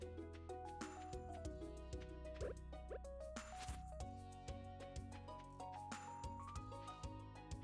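Watering can splashing in Stardew Valley, a few soft plops and drips over steady looping background music, no talking.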